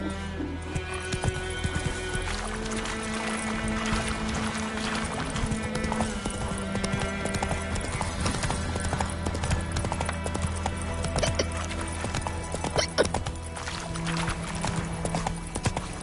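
Roach the horse galloping in The Witcher 3, steady rhythmic hoofbeats running throughout with occasional neighs over a continuous game music bed.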